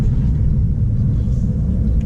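A 2.3 liter single overhead cam VTEC car engine running in a parking lot, heard close as a steady, heavy low rumble without pauses or voices.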